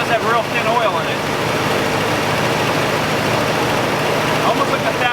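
Oldsmobile Cutlass engine idling after sitting since 2005, a steady, fairly fast low rumble running close by, with a voice speaking over it at times.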